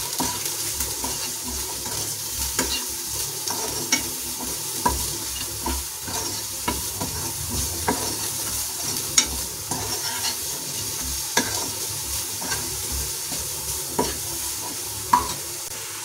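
Peas seasoned with salt, amchur powder and black pepper are stirred in a pan. A steady close sizzle runs throughout, with sharp scrapes and clicks of the spoon coming every second or so, and no voices.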